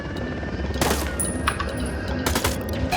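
Rapid automatic gunfire from the Ghost Recon Wildlands video game crackles in dense loud bursts over a constant noisy backdrop, with sharper volleys near the start and the end.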